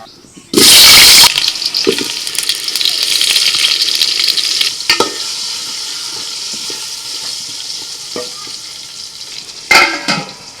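Potatoes stirred in a hot pan with salt and turmeric, giving a loud burst of sizzling that settles into a steady frying crackle with scattered scraping stir sounds and a few sharp clatters.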